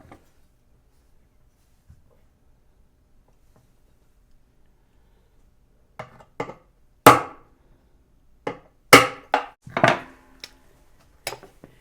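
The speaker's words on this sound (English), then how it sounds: "tapping the back of the parting knife with a small tack hammer" A small tack hammer taps the back of a parting knife set against a violin nut's hide-glue joint, giving a series of sharp, dry wooden knocks that start after a long quiet stretch and come in irregular clusters.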